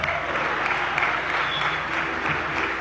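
An assembly audience at a session of Venezuela's National Constituent Assembly gives a round of applause for a music group, a brief, even wash of many hands clapping steadily.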